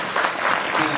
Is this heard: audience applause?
yes